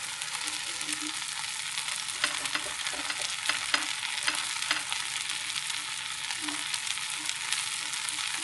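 A wheat dosa fries in ghee on a hot griddle, giving a steady soft sizzle with faint crackles throughout, close and moderately quiet, with no voices.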